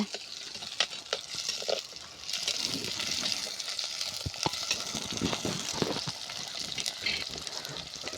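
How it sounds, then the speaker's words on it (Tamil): Small onions sautéing in hot oil with cinnamon, star anise and cloves for a potato kurma, a steady close sizzle broken by scraping spoon strokes against the pan. "அடுத்தது சின்ன வெங்காயம் சேர்த்துக்கோங்க வெங்காயம் நல்லா வணங்குற வரைக்கும் வணக்கிக்கோங்க"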